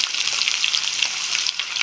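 A steady, close crackling sizzle of onions frying in hot oil in a pan, with bright hissing pops throughout.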